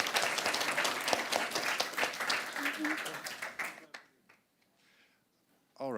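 Audience at a WebRTC tech conference applauding, a dense burst of clapping lasting about four seconds and then fading abruptly into near silence, with a short voice entering at the very end.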